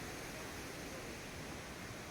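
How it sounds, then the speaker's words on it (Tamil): Lakkam waterfall in Munnar roars as a steady, dense, broadband rush of falling water, heard close and continuous without any voices. "அந்த அருவியோடைய அற்புதமான அந்த இரைச்சல் சத்தமும் கேட்டுக்கிட்டே"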